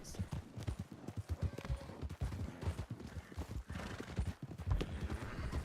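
Horse hooves clip-clop over rough ground in a steady rhythm, fairly faint, with a horse's whinny and soft voices murmuring in the background.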